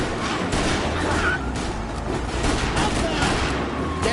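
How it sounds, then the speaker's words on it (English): Gunfire in a mafia video game, dense overlapping volleys of shots and bangs crackling continuously at close range, with loud game sounds throughout. "They're shooting."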